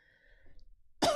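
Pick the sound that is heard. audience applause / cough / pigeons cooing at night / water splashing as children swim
cough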